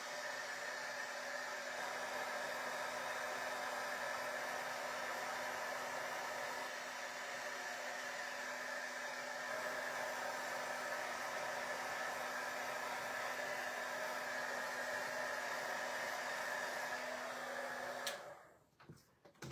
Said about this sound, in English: Let me grab my heat tool and just give this a quick going over.